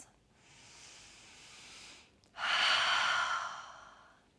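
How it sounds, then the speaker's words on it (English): Two slow, deep breaths during a yoga stretch, a softer drawn-out inhale followed by a louder, fuller exhale, close and alone with no talking. "Couple breaths."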